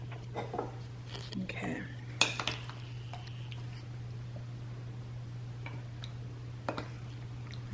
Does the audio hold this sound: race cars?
no